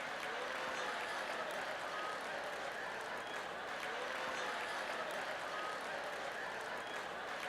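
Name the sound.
congregation clapping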